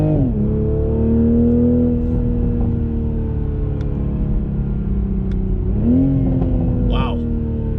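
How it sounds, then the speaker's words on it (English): Toyota Supra MK5 V6 exhaust droning loud and close as the car accelerates, dipping briefly before climbing again in a rising rev, with a voice talking over it. "Listen to that exhaust for a V6. This thing sounds awesome."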